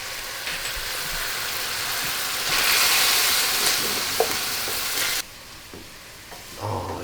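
Sweet sausage with hot pepper flakes frying in a pan, a steady close sizzle that swells louder midway with a few utensil clicks, then drops back to a quieter crackle.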